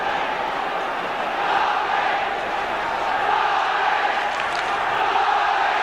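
Large crowd at a 1970s Derby County football match shouting and jeering over a free kick, a dense, steady roar of many voices with some whistles near the end.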